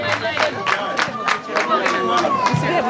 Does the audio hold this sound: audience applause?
yes